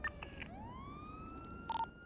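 A police car siren in GTA V roleplay sweeps up in pitch as a wailing tone, with beeping chirps before and after, fairly faint and with no voices.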